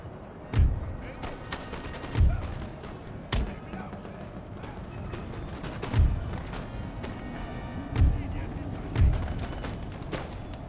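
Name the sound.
musket volley fire in the video game Empire: Total War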